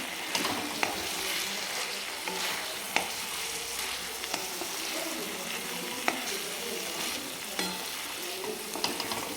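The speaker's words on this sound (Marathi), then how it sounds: "आपण शेंगदाण्याचं कूट टाकणार आहे जे की आत्ता वाटलेलं होतं ते आणि छान मिक्स करून घेऊ आपण याला" Crushed peanuts being stirred into brinjal cooking in a pan: steady frying sizzle throughout with repeated scraping stirs of a spoon, close and fairly loud, no talking.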